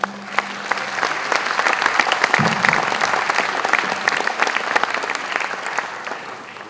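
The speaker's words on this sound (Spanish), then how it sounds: "Recibámoslo con un grato aplauso." An audience applauds steadily to welcome a nuclear physicist taking the stage for a physics lecture, a dense, sustained wash of clapping lasting several seconds, with a brief low hum partway through.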